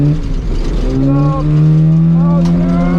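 Toyota KE70 Corolla with a welded differential, engine droning loud and close as the driver shifts, revs dipping and climbing again between gears.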